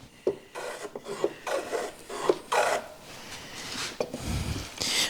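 A rasp or file scrapes across a wooden chamfer in repeated strokes, each a short gritty burst with brief pauses, steady and close, with one deeper thump near the end.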